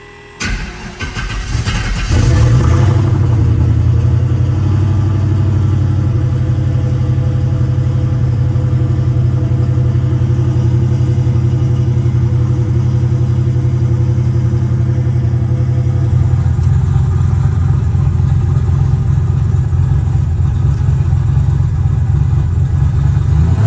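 Turbocharged Datsun 280Z engine running on a dyno, a brief rattle of starting and then a loud, steady low drone that holds for about twenty seconds and swells slightly near the end.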